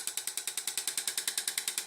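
A Zimmer enPuls shockwave therapy machine fires at 60 mJ and 10 Hz, giving a rapid, regular train of sharp, bright clicking pulses, about ten per second, steady and close with no talk.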